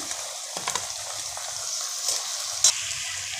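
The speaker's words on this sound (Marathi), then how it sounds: "आता आपलं लसूण भाजून तयार झालेलं आहे त्यामध्ये आपण आता हा सगळा कांदा घालून घेऊया" Chopped onion dropped into garlic already frying in oil, a soft steady sizzle with a few sharper crackles and light stirring taps, close and without talk.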